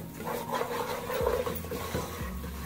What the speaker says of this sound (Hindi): लो फ्लेम पे बेसन को हम भूनेंगे। चम्मच आपने लगातार चलाते जाना है